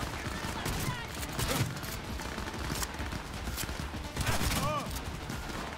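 Shotgun fire in Cyberpunk 2077, several loud, heavy blasts in quick succession amid chaotic combat noise, with someone talking over parts of it.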